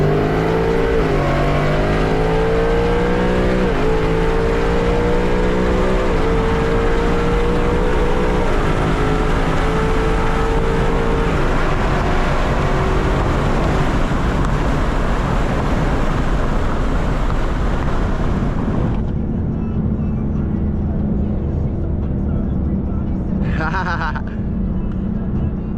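A Mustang races in the Need for Speed video game: a loud engine climbs through repeated rising rev sweeps and gear changes, then drops off abruptly near the end, leaving a quieter rumble and a brief whine.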